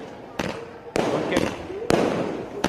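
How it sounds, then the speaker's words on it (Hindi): Fireworks set off in celebration of Neeraj Chopra's Olympic gold medal, with sharp loud bangs roughly every half-second to second and crackling between them, while someone speaks over the display. "जन्म स्थान पर भी जमकर आतिशबाजी हुई।"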